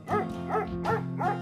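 A dog barks four times in a steady rhythm over a musical backing track in a children's alphabet animal song, each bark loud and close.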